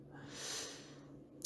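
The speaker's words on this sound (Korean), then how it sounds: "코를 통하여 공기를 흡입하는 행동을 합니다. 이때 꺽꺽 혹은 또 컹컹 같은 거위 기침 소리가 납니다." A dog reverse sneezing, pulling air sharply in through the nose with a goose-like honking snort, heard as one soft, breathy swell of snorting, faint and alone.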